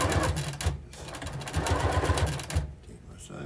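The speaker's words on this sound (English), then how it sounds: "take my sewing machine" A sewing machine runs in short rhythmic bursts while stitching binding onto a quilt, its steady mechanical whir stopping and restarting a few times, loud and close with no talk.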